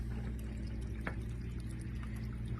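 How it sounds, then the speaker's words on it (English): Clear water streaming steadily out of a tube, a continuous low gushing flow heard close up with one brief splashy spike, no voices. "That tube right there is constantly throwing water, clear water."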